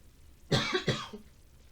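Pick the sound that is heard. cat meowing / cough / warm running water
cough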